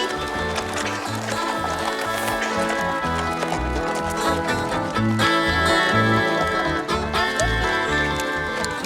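Horses walk down a mountain trail in Banff, Alberta, their hooves clip-clopping in a steady, overlapping rhythm at close range, with tack and movement noise and occasional voices mixed in.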